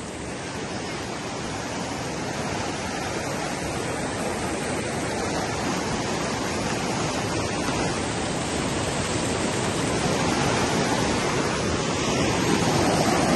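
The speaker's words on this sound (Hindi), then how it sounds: "ये पानी सारा गांव की तरफ जा रहा है।" Floodwater surges toward a village after a main road has been washed away, a loud, steady broadband roar of fast-moving water that holds constant and swells slightly throughout, with no voices.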